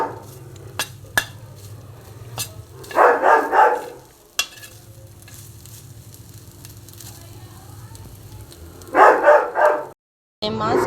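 Household dog named Duster letting out two brief bursts of barking, several seconds apart, behind a kitchen where pork chilli fry is cooking, with faint sizzling and utensil sounds between them.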